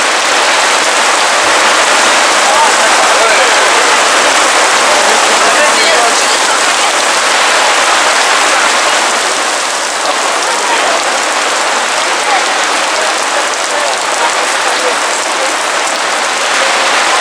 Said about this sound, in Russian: Дождь поливает как из ведра.